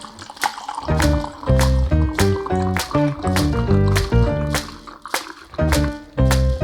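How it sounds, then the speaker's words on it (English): Water running and sloshing while rinsing Kodak Vision 3 film in a developing tank, a loud close pour of liquid with gurgling, hollow resonant tones and repeated splashy bursts, filling and draining in uneven rhythm. "I will rinse with water many times until the water comes out of the tank"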